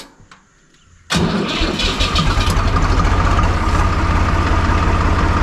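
A tractor engine revs up abruptly after a moment of near silence, then runs steadily and loudly under heavy load with a deep, continuous low rumble, alone with no talk.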